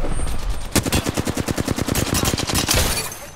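Automatic weapon fire in a video game: a loud, close stream of roughly twenty rapid, evenly spaced shots over a constant background roar.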